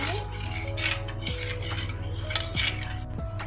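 A utensil stirs watermelon juice seasoned with black pepper and salt, clinking and scraping against the container in quick repeated strokes close by, with a steady background hum underneath.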